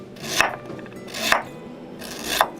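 Three crisp knife chops strike a cutting board about a second apart as ginger is sliced, close and fairly loud, with a faint scraping rub between them.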